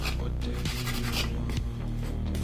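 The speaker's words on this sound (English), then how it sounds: "it is just scraping off with the tip of my knife" A knife tip scrapes rust and residue off an old hand drill under restoration, giving short rasping scratches in quick bursts, close up, over a low steady hum.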